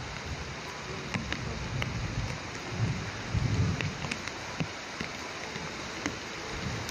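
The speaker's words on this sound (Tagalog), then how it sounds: "Sobrang lakas ng ulan." Heavy rain pours down steadily outdoors, a dense continuous wash of falling water with scattered sharper drop impacts and a few low rumbles underneath, with no talk.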